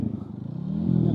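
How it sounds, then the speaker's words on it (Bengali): A 4V motorcycle idles and begins to pull away for a ride, its engine rumble steady and close, then rising slightly in pitch and loudness. "এখন রাইড দিব দ্য ক্রেজি 4V"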